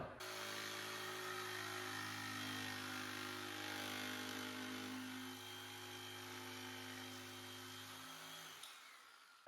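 A power saw whines in one continuous, steady cut through a laminate flooring door threshold, close and loud, before spinning down abruptly near the end.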